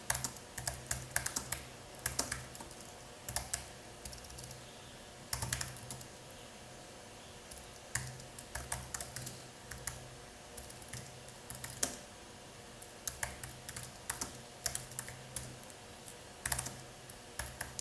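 Git commands are tapped out on a computer keyboard in short, irregular bursts of clicking keystrokes separated by pauses, close and crisp in a quiet room.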